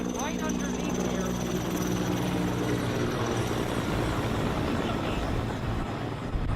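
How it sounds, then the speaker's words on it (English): Helicopter working over a wildfire beside a neighborhood, its rotor roar loud and constant throughout, mixed with wind and rumble, while a voice talks faintly underneath. "You can see that helicopter."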